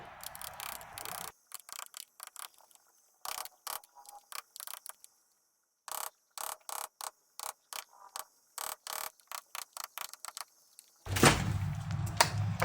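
A screwdriver used as a chisel on a wooden door edge while fitting a Kwikset deadbolt and strike plate, producing a series of sharp close clicks and taps in an irregular rhythm with quiet gaps, ending in louder scraping.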